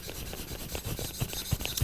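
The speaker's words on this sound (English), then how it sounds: "This is the rougher of the two rust erasers" A coarse rust eraser scrubbing across a Naniwa diamond sharpening stone to clear out the loaded surface, a close, steady dry rasping with small gritty scrapes and occasional sharper ticks.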